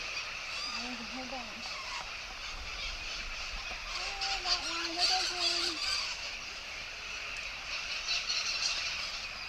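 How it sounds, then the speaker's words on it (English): Mountain parrots calling along the Salkantay Trek, a scatter of short squawking calls over steady outdoor ambience, with people talking nearby. "We believe these to be mountain parrots."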